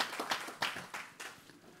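A few scattered claps from a church congregation at a Sunday service, faint and thin, tailing off over a couple of seconds.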